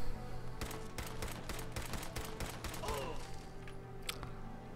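Bursts of rapid gunfire from a bayonet-fitted gun in the Fallout 4 video game, a fast run of sharp close shots followed by a few scattered blasts over game ambience.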